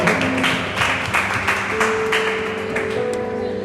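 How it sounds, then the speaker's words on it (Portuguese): Applause from a church congregation during a sermon, a steady broadband patter of clapping that runs throughout at a fairly loud level, with faint tonal ringing mixed in beneath it. "Uma salva de palmas para você sabe tudo."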